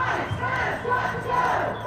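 A large protest crowd of thousands on the steps of the Colorado state capitol roars and shouts together, a loud sustained mass of voices rising and falling for a couple of seconds.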